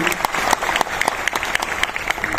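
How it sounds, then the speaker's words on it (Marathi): A crowd claps steadily to welcome a guest at a speech, dense applause that holds at an even level throughout. "त्यांच्यासाठी आपण जोरदार टाळ्या वाजवू आणि त्यांचं स्वागत करू"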